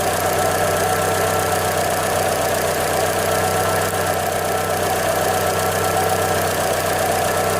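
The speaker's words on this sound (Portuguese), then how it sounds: "Conforme o motor esquenta um pouco, como é o caso agora, tá? Ela diminui bastante." A warmed-up Chevrolet Classic 1.0 VHC-E engine idles close by with a steady, even hum and faint ticking, continuous and unchanging with no talk.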